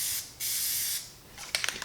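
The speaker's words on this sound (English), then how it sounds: "So shake the can up a bit, take a test shot." Test shot from a shaken PlastiDip aerosol spray can while refinishing a car wheel: two short, close hissing bursts followed by faint clicks and rattles.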